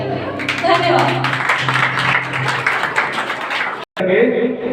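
Audience applause at a school Mother's Day celebration right after a poem is recited, a dense burst of continuous clapping that runs strong for nearly four seconds, breaks off abruptly, then resumes at full strength.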